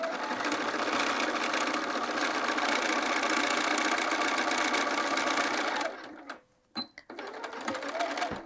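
A sewing machine stitches a dart on a quilted jacket, running in a steady, fast whirring rattle for about six seconds before stopping, followed by a few quieter clicks.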